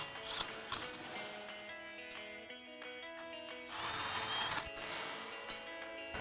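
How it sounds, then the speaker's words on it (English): An impact wrench with a 10 mm swivel socket and extension tightens bolts while installing a Roush single exhaust system on a Ford F-150, giving several close whirring, ratcheting bursts with short gaps, loudest around the middle. "grab a 10 millimeter swivel socket and extension on our impact to tighten these"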